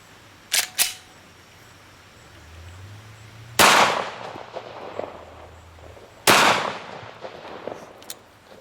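A 3rd gen Glock 19 pistol fires RIP and hollow point rounds outdoors, two sharp loud cracks a few seconds apart, each trailing off, with fainter clicks and handling noise beforehand.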